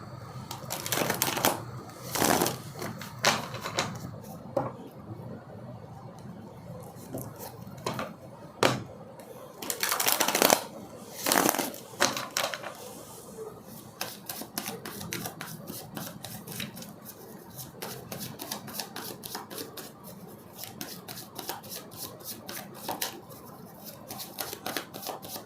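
Tarot cards are shuffled by hand in bursts of riffling and bridging, first loose and irregular, then settling into a rapid, even run of crisp flicks, close and without talk.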